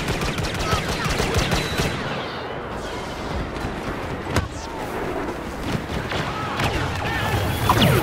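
Blaster fire crackles in the Star Wars Battlefront video game as rapid, overlapping shots stream out in a steady barrage, with a sharp, louder crack near the middle amid the ongoing battle noise.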